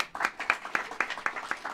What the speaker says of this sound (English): Big hand of applause for Cecilia.